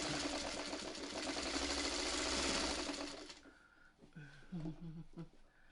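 A sewing machine stitches a 4-patch quilt block, its fast even motor hum running loud and close for about three seconds before stopping, followed by a voice talking.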